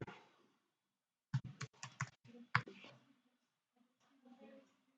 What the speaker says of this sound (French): Si je tape poulie